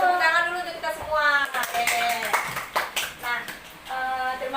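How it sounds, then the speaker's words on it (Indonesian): A school class claps together during a lesson, a short burst of scattered hand claps in the middle while children's and a teacher's voices carry on over it. "Tepuk tangan dulu untuk kita semua."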